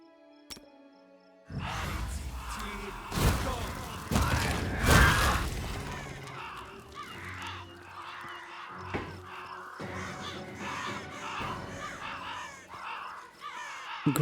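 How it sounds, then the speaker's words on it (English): A swarm of ravens in the Pathfinder: Kingmaker video game bursts into harsh, overlapping caws and flapping, loud at first and then continuing as a busy, rhythmic chorus of calls. "Raven swarm."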